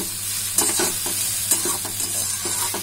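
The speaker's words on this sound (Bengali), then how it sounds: "আমি 4-5টা আলু দিয়েছি কেটে, ভালো করে একটু ফ্রাই করে দিলাম।" Cut potatoes fry in a pan with a bright, steady sizzle, punctuated by a few sharp stirring scrapes and clinks, close and without voices.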